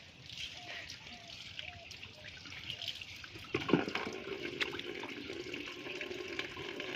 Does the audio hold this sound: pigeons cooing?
no